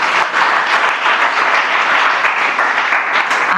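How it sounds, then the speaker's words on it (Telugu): A church congregation bursts into loud, sustained applause in praise during a Telugu prayer service, a continuous wash of many hands clapping close and full. "అందరూ చప్పట్లు కొట్టండి."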